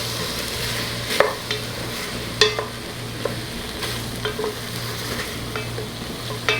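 Cherry tomatoes sizzle and simmer in a pot for tomato sauce, a steady frying hiss over a low hum, with occasional sharp clinks and stirring knocks.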